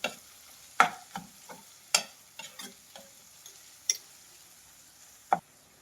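A spoon stirs vegetables with salt in a pan for Maggi masala noodles, making a string of distinct scraping clicks and taps at an uneven pace over a faint sizzle, with no talking.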